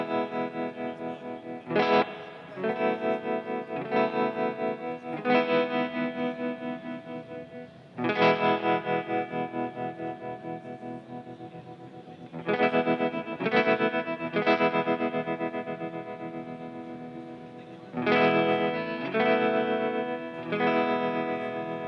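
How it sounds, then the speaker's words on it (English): Electric guitar played through an Origin Effects Revival Trem tremolo pedal on a clean setting, strummed chords ringing out in several phrases with a pulsing, rhythmic volume throb, loud and close with no talking. "we can just listen to how it sounds as a kind of traditional tremolo pedal"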